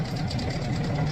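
An RK 25 tractor engine running close by, a steady low chugging drone with a rhythmic pulse throughout.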